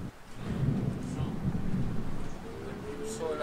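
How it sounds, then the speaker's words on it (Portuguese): Cold rain falls steadily outside a window while low thunder rumbles nearby, a continuous dense wash with deep rolling swells. "Que chuva gelada, véi!"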